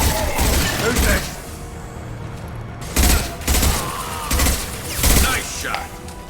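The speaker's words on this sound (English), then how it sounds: "Firing an impact shot." Bursts of gunfire from the video game Mass Effect 2 Legendary Edition, loud and repeated in several separate volleys with booming impacts and voices between them.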